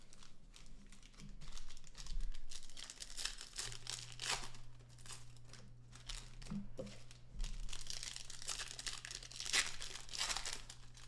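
Panini Select baseball card packs being ripped open and stacked produce steady crinkling, tearing and rustling of foil wrappers close by, continuing throughout under a low hum.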